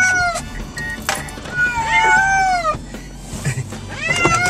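Several cats meow and wail from carriers in a moving car on the way to the vet, with loud, drawn-out, rising and falling cries overlapping against a low road rumble.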